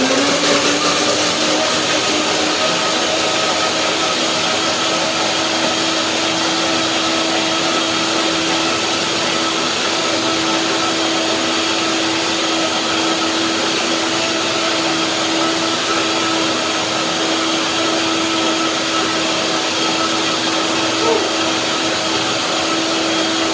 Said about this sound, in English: blender dance, let's see.